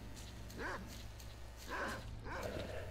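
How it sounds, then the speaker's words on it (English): Dogs barking in the S.T.A.L.K.E.R. Call of Chernobyl video game: three separate bark bursts spaced about a second apart over a low steady hum, fairly close. "Can you shut up, dogs?"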